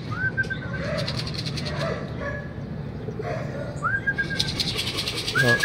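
Racing pigeons arriving at a club training loft in Luisiana, Laguna, with rising whistle-like chirps and soft cooing. Background chatter and a barking dog run beneath the bird sounds.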